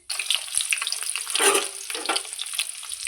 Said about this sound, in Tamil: வெங்காயத்தை போட்டாச்சு எப்போதும் போலவே எண்ணெயிலே நல்லா வதங்க விடணும்